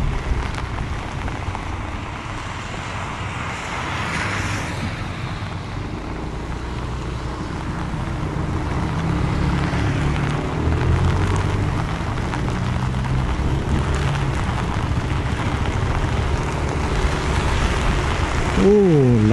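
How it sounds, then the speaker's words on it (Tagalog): Heavy rain pours steadily on a motorcycle rider's helmet and gear on a wet uphill road in Baguio, a dense continuous hiss that builds louder over time, with wind rush and a few muffled words under it. "Oh, lakas na ng ulan, palakas na ng palakas."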